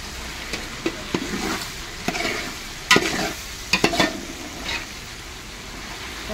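Potatoes stir-fried in a little oil at a camp kitchen sizzle steadily, with a series of sharp scraping knocks as they are turned in the pan.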